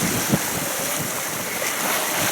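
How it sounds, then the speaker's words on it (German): Rough sea left over from a strong wind washes around a sailboat in a continuous, loud roar of water and wind with small splashes and a brief thump, and no voices. "wir haben heute eine grobe Welle hier noch von dem Starkwind, der den letzten Tag war."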